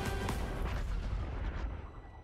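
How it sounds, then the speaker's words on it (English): Mortar fire in the World War I shooter Battlefield 1, a dense cluster of heavy booms and rumbling blasts, loud and close at first and then easing slightly, with no voices. "And the mortars go up."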